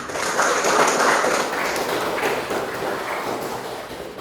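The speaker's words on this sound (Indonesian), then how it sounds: "Beri aplaus buat kalian semua." A school class of seventh graders claps together in a classroom, a dense burst of applause that peaks early, then thins and fades over several seconds.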